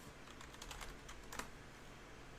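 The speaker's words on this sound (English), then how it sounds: "So I come here and I type in Beth." Quick keystrokes on a computer keyboard entering a short name, a brief cluster of soft clicks close by with one sharper tap near the end, faint and with no voices.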